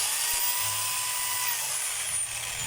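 Makita rotary hammer running in drill mode, a steady high-pitched whine that holds evenly for a few seconds at close range with no talking.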